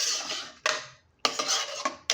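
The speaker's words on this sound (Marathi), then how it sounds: "छान चण्याची डाळ अशी मिक्स करून घ्यायची" A spoon scrapes and stirs chana dal into masala in a metal pot, with a couple of close, gritty sweeps separated by a brief pause.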